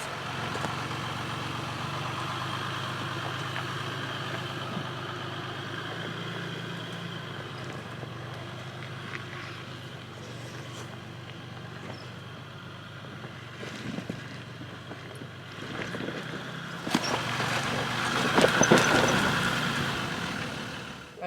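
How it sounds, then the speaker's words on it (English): A Jeep Wrangler in 4-low crawls up a steep rocky crack, its engine a low steady drone under wind noise, swelling louder near the end as it works harder. "Now we just started up this big gnarly crack with just 4-low on the Wrangler."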